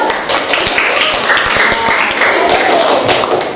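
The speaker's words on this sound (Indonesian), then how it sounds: "Tepuk tangan Robur" A school class claps hands together in a classroom, a brief burst of scattered sharp claps with voices talking alongside.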